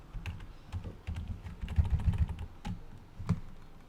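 Keyboard shortcuts tapped out on a Mac computer keyboard: a string of close, irregular key clicks and heavier thumps, some doubled, with brief pauses between bursts and no talking.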